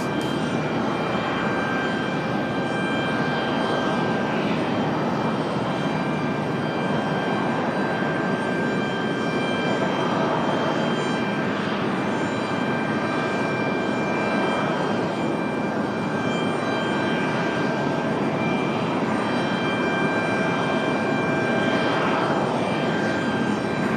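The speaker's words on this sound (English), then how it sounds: "This one coming in from Newark, New Jersey, a 737 MAX 9." A Boeing 737 MAX 9 jet airliner inbound from Newark approaches to land at Raleigh-Durham International Airport, a steady broadband jet roar held at moderate distance for the whole span, with no speech over it.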